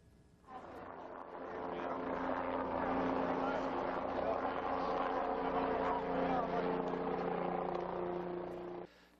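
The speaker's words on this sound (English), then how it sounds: "Helicopters circled low to the ground" Helicopters circle low over the Central Connecticut State University campus in New Britain during a police lockdown, a steady droning rotor and engine roar that swells in and holds loud for several seconds before cutting off.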